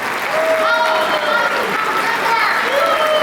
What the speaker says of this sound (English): let's get up on your feet and let's give each other a big round of applause